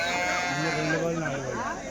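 Sheep and lambs bleat at a livestock market in Kadiri ahead of Bakrid, wavering cries overlapping close by. People talk over them.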